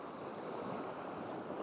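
Sea water washes over coastal rocks on the Coleton coast, making a steady, continuous rushing wash close by with no voices.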